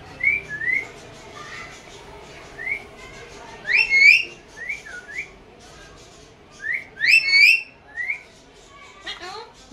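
A pet parrot whistles in varied, rising and falling phrases, bright repeated whistles coming in bursts with short pauses, close and fairly loud over faint background noise.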